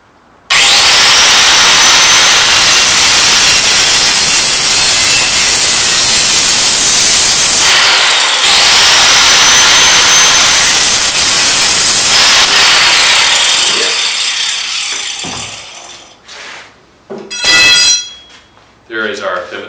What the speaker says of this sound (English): These little 4-inch angle grinders sure are handy.